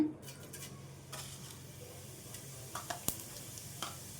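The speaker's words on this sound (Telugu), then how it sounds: "ఇందులో అయితే ముందుగా 1 టేబుల్ స్పూన్ వరకు జీలకర్రను వేసుకుందాం" Cumin seeds, about a tablespoon, dropped into hot oil in a pan, giving a low steady sizzle with a few light utensil clinks and taps near the end, close and fairly quiet.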